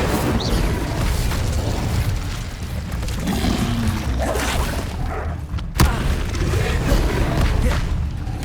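Incendio fire spells burst repeatedly in the Hogwarts Legacy game, making loud whooshing blasts and booms within constant dense battle noise, with one sharp crack near the end.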